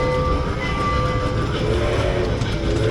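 Pearl Express amusement park train passing outdoors at Icon Park in Orlando: a loud, continuous rumbling roar with a faint steady tonal whine and no clear pauses throughout.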